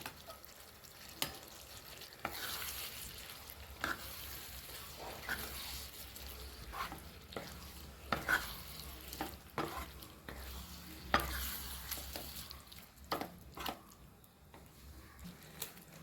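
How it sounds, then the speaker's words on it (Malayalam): Boiled eggs are stirred into a frying onion-tomato masala for an egg roast: quiet, repeated scraping stirs over a faint, soft sizzle. "നമ്മൾ പുഴുങ്ങി വെച്ച കോഴിമുട്ട ഇതിലേക്ക് ഇട്ട് കൊടുക്കാം"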